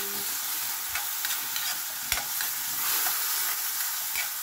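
Green beans, ground pork and tomatoes stir-fried in a pan give a constant soft sizzle and hiss, with faint scrapes and taps of the spatula throughout. No one talks.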